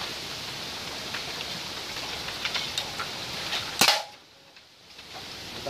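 A homemade PVC pipe toy marble gun fires once, a single sharp crack rising suddenly out of a steady hiss of outdoor background noise, followed by a brief quieter lull.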